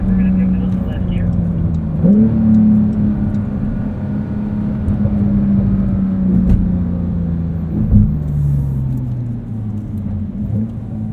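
A 2023 Porsche 911 Turbo S drives on a track at the Porsche Experience Center, its engine droning steadily with pitch sweeps as it shifts and changes speed, heard close up from inside the cabin.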